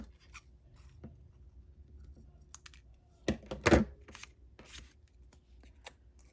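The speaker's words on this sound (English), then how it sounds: "We'll cut off the tail." Paper cut with scissors in a craft session, a short crisp burst of snipping about midway, close and fairly quiet over a soft room hush.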